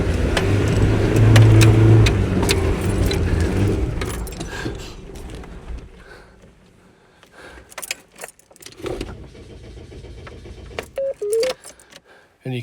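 A vehicle engine on a wet, greasy track runs loudly, then stalls and cuts out into quiet, followed by keys jangling and brief clicks of failed restart attempts.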